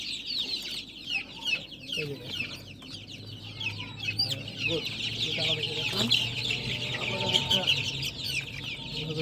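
A 28-day-old desi chicken being held for beak trimming clucks and squawks in repeated agitated bursts close by, while a person talks briefly over it.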